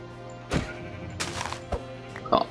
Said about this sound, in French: Parfait, il y a des moutons ici.